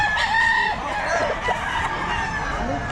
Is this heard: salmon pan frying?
no